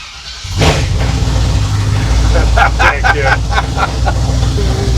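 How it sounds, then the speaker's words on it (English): A hot rod squarebody pickup truck cranks and fires up, then settles into a loud, deep, steady idle close by, with voices talking over the rumble. "It sounds like a circle track truck."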